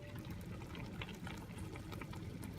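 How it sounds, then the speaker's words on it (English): Chilli con carne simmers in a pot, a steady close bubbling and gurgling that continues without a break and with no talk over it. "That just needs to cook slowly now and simmer."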